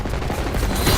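Video game gunfire in a firefight over an escorted high-value target, a steady dense rattle of shots running the full second at a fairly loud, even level.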